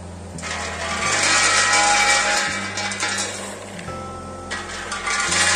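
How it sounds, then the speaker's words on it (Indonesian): A seed-cleaning air blast cleaner runs steadily with a loud mechanical drone and broadband rushing air, its hum shifting slightly as material passes through, with no talk. "sini kita langsung masukkan ke dalam alat ini ya, si air blast cleaner"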